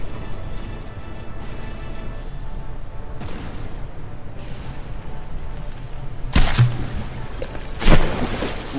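In the From The Depths naval battle game, volleys of high-explosive shells sound as dull booms over a low rumbling background, with sharper bursts near the end.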